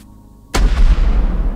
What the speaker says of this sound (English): Is that a cannon? It is. That is a cannon.